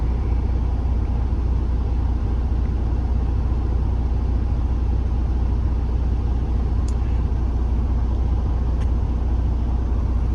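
Truck engine idling steadily while its air system builds pressure during a CDL pre-trip inspection, a continuous low rumble close by with a couple of faint brief clicks, no talk.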